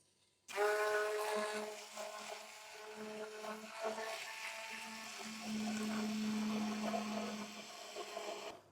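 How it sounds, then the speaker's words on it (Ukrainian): Immersion blender emulsifying egg yolk and oil into homemade mayonnaise, a close, steady motor whir with a shifting tone as the blade works the mixture, running continuously with no talk. "Тепер беру занурювальний блендер і починаю легенько це перебивати."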